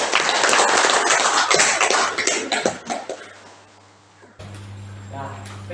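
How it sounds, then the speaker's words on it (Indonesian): Classroom of students clapping hands together, dense clatter of many small hands close by for about four seconds, fading out, followed by a steady low hum. "Tepuk tangan untuk kalian."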